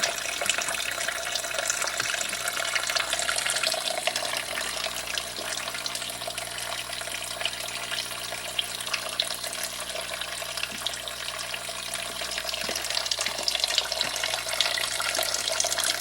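Water runs steadily from a tap into a sink, a continuous broadband hiss and splash holding at even loudness throughout, with faint background tones beneath and no talking.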